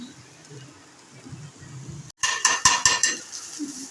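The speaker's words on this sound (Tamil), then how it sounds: "நல்லா வதக்குங்க" Ingredients sautéed in a pan: quiet, low background at first, then a burst of loud metallic clanks and scrapes as a utensil stirs against the pan.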